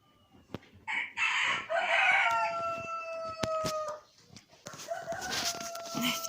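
An old rooster crows loudly and close by in a snowy Siberian farmyard, two long drawn-out calls with a short gap between them, with a few clucks and scattered background noises.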